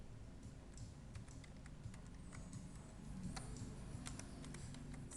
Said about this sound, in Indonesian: Misalnya kita ketik